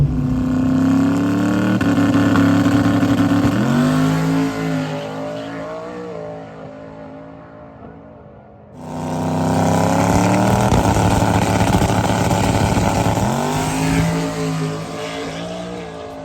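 A turbocharged Ford S197 Mustang drag racing at Amarillo Dragway at a small-tire event roars loudly at full throttle, engine pitch climbing through gears, briefly dropping off before a second hard, sustained run.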